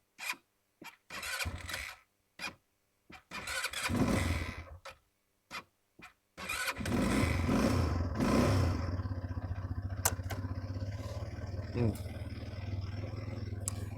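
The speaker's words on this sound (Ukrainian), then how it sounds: "Давайте його заведемо, слухаємо роботу двигуна." Clicks and short cranking bursts, then the small 200cc engine of a Comman Scorpion quad bike catches and settles into a steady, close idle with a buzzing rumble.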